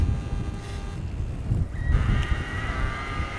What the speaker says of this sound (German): Der Gangwechsel passiert.